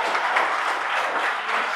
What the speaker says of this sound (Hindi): मैं आपके लिए ताली बजाता हूँ